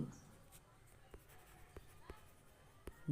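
Pen writing on paper during a physics problem about a measuring cylinder of water with a cork and sinker, heard as faint, sparse scratchy strokes in a quiet room.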